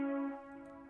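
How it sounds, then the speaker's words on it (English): A sustained, buzzy synth chord from the Soul Stack preset in FL Studio's polysynth holds steady, then softens slightly with a faint wavering shimmer, played alone. "it's some kind of a synth, and it's soul stack inside polysynth"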